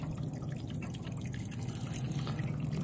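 Water drains out of an RV water heater tank, flushing corrosion and hard-water sediment in a steady, continuous rushing splash that stays even throughout.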